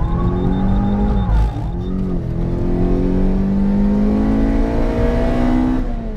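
Toyota Corolla T Sport fitted with wider tires, driven hard on a race track during a track day: a loud, close engine drone that dips briefly on a shift, then climbs steadily in pitch as it revs.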